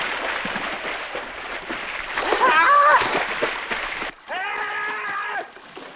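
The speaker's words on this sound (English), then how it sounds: "there was a sudden loud splash on the water surface" A person plunges into a freezing river with a sudden loud splash that bursts out over a low rushing background, followed shortly by a sustained tonal cry.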